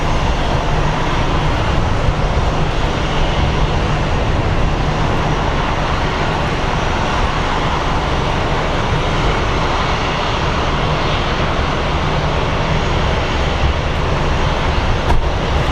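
An airplane at Sky Harbor International Airport produces a loud, steady engine roar that rumbles continuously without letting up, with no talking over it.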